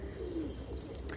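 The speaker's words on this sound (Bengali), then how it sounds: "এই যে একটা জালালি কবুতর এসে বসছে" Pigeons in a pigeon loft give a soft, low cooing, faint and brief against a quiet background.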